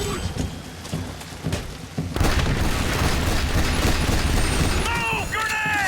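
Hand grenade blast in The Bureau: XCOM Declassified on veteran difficulty during an alien invasion: a heavy boom turns into a sustained roaring rumble, with loud combat noise and shouted voices around it.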